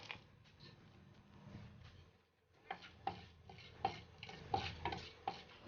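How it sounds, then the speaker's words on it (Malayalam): A quarter teaspoon of fenugreek seeds drops into hot coconut oil for a Kerala-style fish curry, giving a low, steady sizzle broken by a run of sharp, evenly spaced ticks and pops in the second half. "അപ്പോൾ ഇനി എണ്ണ ചൂടായി വരുമ്പോൾ അതിലേക്ക് ഒരു 1/4 ടീസ്പൂണ് ഉലുവ ഇട്ട് കൊടുക്കാം."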